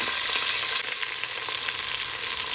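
Fennel seeds, cumin, mustard seeds, fenugreek, green and dried red chillies and onion fry in hot oil, producing a dense, loud, continuous crackling sizzle up close, with no speech.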